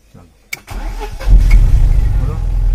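A car engine cranks and catches, then settles into a loud, close, rumbling idle after a brief click, with a person talking nearby.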